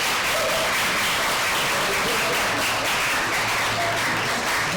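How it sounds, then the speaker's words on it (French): Steady, dense audience applause at a round-table gathering on volunteering and diversity, a continuous wash of many hands clapping throughout, fairly loud and even. "Je pense qu'on peut vous donner une petite main d'applaudissement."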